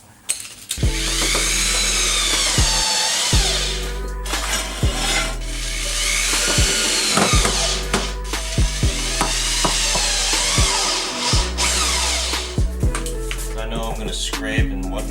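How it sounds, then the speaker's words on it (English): A power drill bores into a new side strake piece with long, steady whirring runs that rise and fall in pitch, broken by brief stops and restarts, close and loud with no talking. "Right now I have to drill into the new piece."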